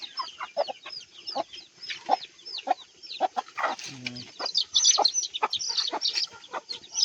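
Hens with newly hatched chicks on a farm, a dense chorus of high, rapid peeping chirps close by, broken by a few low clucks from an adult bird.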